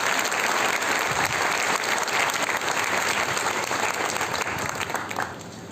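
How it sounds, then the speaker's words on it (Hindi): Loud, dense applause from an audience welcoming a guest at a school function, sustained and even before thinning out at the very end. "इसे जोरदार तालियों के साथ उनका स्वागत करें"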